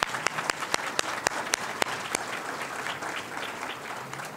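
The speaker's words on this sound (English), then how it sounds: "Let's give them a round of applause" An audience at an alumni weekend induction gathering gives a round of applause, steady moderate clapping with a few distinct sharp claps close by, without talk.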